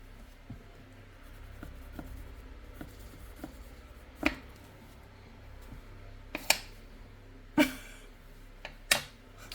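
Scratchy pen scribbling on paper while making an ephemera art page, with soft repeated strokes broken by several sharper, louder scratches and taps close to the listener.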